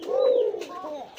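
A pigeon for sale, one of a matched pair, gives a single rolling coo close to the microphone, a low throaty call lasting about a second with a softer second phrase at the end.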